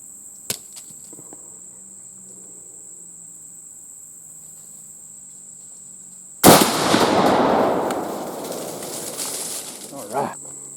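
A Browning Maxus II semi-automatic shotgun fires a single heavy #3 shot round outdoors, a sudden loud close blast followed by a long rolling echo decaying over several seconds, after quiet background ambience.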